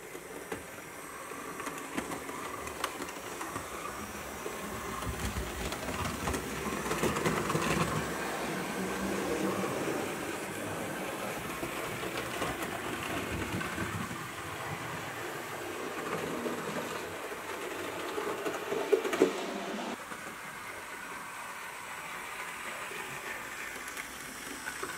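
A Hornby model train runs on DC track with a continuous whirring, rattling motor and wheel noise, close and steady throughout with slight swells in intensity.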